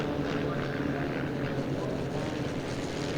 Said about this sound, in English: Fly past continuing overhead